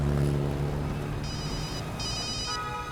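A telephone rings with electronic trilling tones in short repeated bursts over a low background hum.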